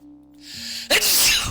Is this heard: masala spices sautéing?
no